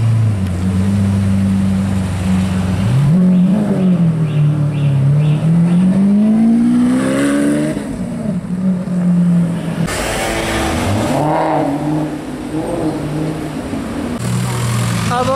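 Mercedes G-Class 6x6 engine revving loudly nearby on a street in Juan-les-pins, with rising and falling engine pitch over a steady roar, then a sharp burst of revs; faint crowd sounds underneath, no clear talk.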